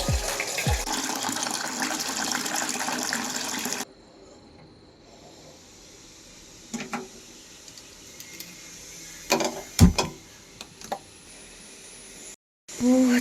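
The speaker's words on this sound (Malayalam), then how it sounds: "ചായക്ക് വെള്ളം എടുക്കട്ടെ കേട്ടോ" Water runs from a kitchen tap for making tea, a dense steady splashing rush for the first few seconds, followed by quieter clinks and handling sounds.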